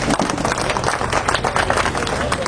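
Audience applause at a Sarkaghat political debate event, welcoming a BJP guest to the stage: dense, steady clapping from a crowd filling the whole stretch at even loudness.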